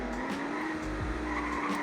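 Tires skid and squeal as a car drifts through a roundabout corner in a Roblox driving game set in Greenville, Wisconsin, a loud continuous screech over steady engine drone with a brief pitch dip midway.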